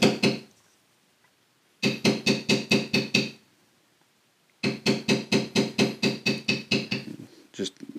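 A mallet taps a metal beveling tool into leather while carving a horse head, giving two rapid runs of evenly spaced, crisp knocks, about six then ten strikes, close and clear.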